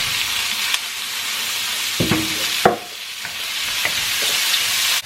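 Mushrooms sizzle loudly in a frying pan with a constant crackling hiss, broken by several scraping and clinking stirs of a utensil against the pan, close up and with no talking.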